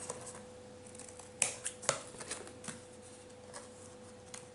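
Scissors trim the edges of paper in a quiet room, giving a few sharp crisp snips near the middle over a faint steady hum, with lighter rustling handling noises around them.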